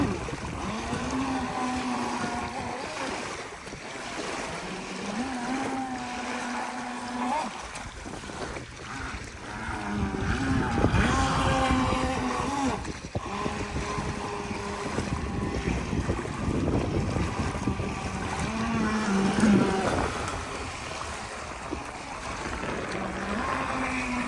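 A small radio-controlled boat with a brushed motor on a 2S battery runs across the water. Its steady whine comes and goes as the boat passes, mixed with wind buffeting and splashing.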